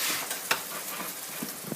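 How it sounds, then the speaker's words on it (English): Onions, pepper, garlic and tomatoes fry in a pan, a steady soft sizzle broken by a few brief stirring clicks and scrapes, heard close with no talking. "So I'm frying up the onions, the pepper, garlic, and tomatoes."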